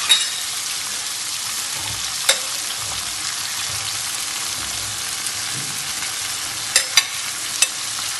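Four chopped onions sizzling in a hot pan for a fried Indian mackerel recipe, a steady dense frying hiss throughout with a few faint clicks of stirring.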